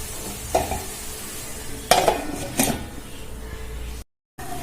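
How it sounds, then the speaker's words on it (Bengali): Mixed vegetables sizzle softly in a pan while a spoon scrapes and stirs through them in a few distinct strokes, close by and with no talking. "এবার এটা একটু ভাজতে দেব, আর একটু ভাজা হলে আমি নামিয়ে নেব"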